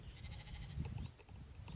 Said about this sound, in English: some of the lambs down there